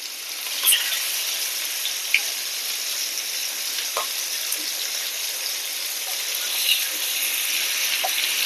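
Surmai fish slices frying on a tawa, a steady close broadband sizzle with a few small pops and spatters scattered through it, no voices.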